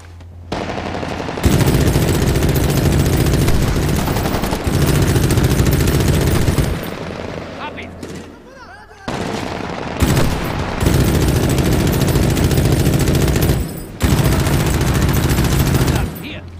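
Heavy sustained gunfire from Sergeant Wright in the video game Medal of Honor Warfighter, loud continuous bursts that roar for seconds, pause briefly, then resume, with a voice faintly underneath.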